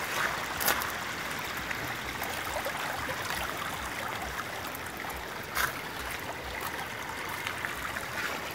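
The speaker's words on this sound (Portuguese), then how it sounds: "Aqui, já desci a ladeira, agora eu vou chegar no riacho." A creek flows steadily nearby, a dense continuous rush and trickle of water over stones with a couple of brief louder splashes, heard alone without voices.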